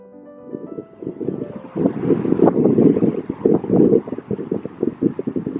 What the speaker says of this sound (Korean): 바람이 불고 있어요.